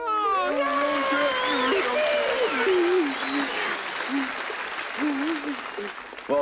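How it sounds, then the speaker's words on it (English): Loud applause from a television studio audience at the Muppet Show curtain call fills the clip, with excited voices and cheering over the clapping. "let's have one last round of applause"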